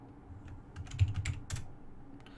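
Quick bursts of keypresses on a computer keyboard while a password is entered into a Cisco router console, irregular clicks close and clear with no talking.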